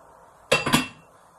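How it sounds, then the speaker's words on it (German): A lid set on a pot of boiling water with two quick metallic clanks, a bright clink followed by a second rattle, fairly close, then quiet. "Vielleicht sollte ich mal Deckel drauf machen"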